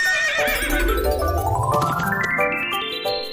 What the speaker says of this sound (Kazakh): Бұл жануарды жылқы деп атаймыз.